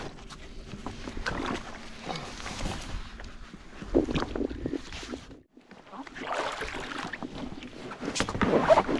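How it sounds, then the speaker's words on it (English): A kayak rowed across the still water of Owens Lake, a once-dry lake, with irregular paddle splashes and drips, gaps of quiet between strokes, and light wind noise near the microphone. "Rowing on Owens Lake."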